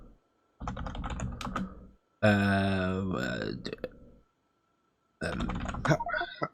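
Rapid typing on a computer keyboard in two close, loud bursts of clicking keystrokes, split by a longer stretch of odd, tonal vocal noise and pauses of silence.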